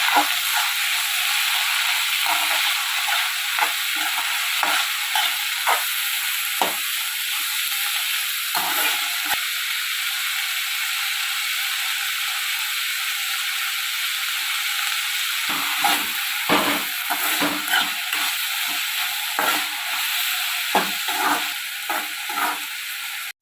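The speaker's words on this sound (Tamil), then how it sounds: "நல்லா நம்ம அந்த எண்ணெயிலே வதக்கிக்கலாம்" Steady oil sizzle from a pan of sautéing banana flower, with occasional clicks and stirring scrapes, continuous and close throughout.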